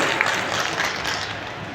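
A crowd applauds at a rally in Rewa during a chief minister's inauguration, a dense, steady wash of clapping filling the short moment without a break.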